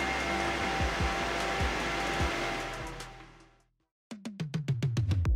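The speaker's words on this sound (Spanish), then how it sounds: "el ruido que generan los ventiladores del Río Toro" Steady whooshing roar of the Riotoro Bifrost 240 water cooler's fans spinning near 3000 RPM at full load, fading out around the fourth second, followed by a rapid series of sharp clicks or taps.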